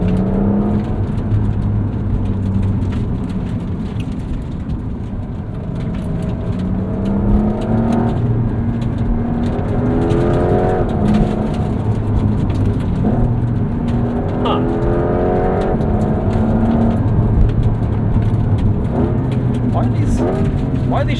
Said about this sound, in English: Let's go down to manual mode